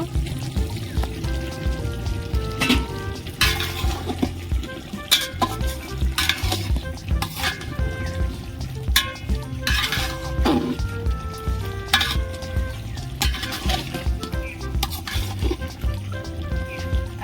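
Mutton curry with melted onion and tomato is stirred in a hot pan, frying with a steady close sizzle and repeated sharp scrapes and clanks of the spoon against the metal throughout, no voices.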